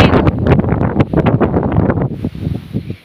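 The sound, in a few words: strong wind on a mountain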